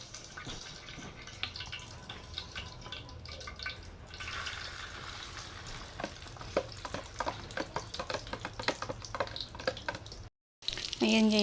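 Fish paksiw cooks in a pan with a faint, steady sizzle and repeated light clicks and stirring sounds throughout, broken by a brief silence before a louder burst at the end.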